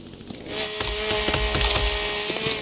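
Chainsaw in The Forest video game biting into trees, a steady buzzing engine drone with rapid rhythmic wood-cutting crunches and splintering, close and loud.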